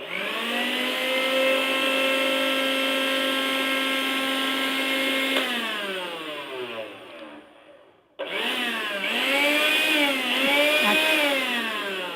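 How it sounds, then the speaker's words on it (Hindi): Blender motor mashing chopped ingredients for a homemade face remedy, a loud steady whine that shifts pitch as the load changes, cuts out briefly, then restarts with wavering tone. "इस तरीके से फिर इसको बड़ा बड़ा काट के ना आप ब्लेंडर में मैश कर लें।"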